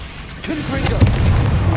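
A Confringo explosive spell blast in Hogwarts Legacy lands as a deep booming rumble with a sharp burst in the middle, swelling into a sustained low roar, while a voice speaks nearby.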